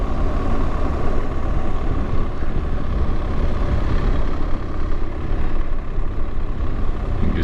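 A BMW R1200GS Rallye motorcycle riding along a Cumbrian coast road, its engine a steady, close drone blended with continuous wind rush.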